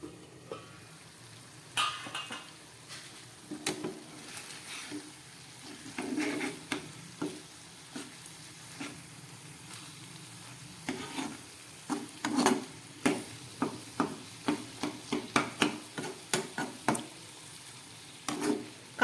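Fish curry with raw tomato simmering in a covered pan over a low gas flame, a quiet sizzle dotted with soft pops and clicks that grow more frequent toward the end, with no talking.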